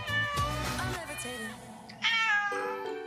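Cats at an animal shelter meow repeatedly, with several high, wavering cries close by, while a narrator talks over them.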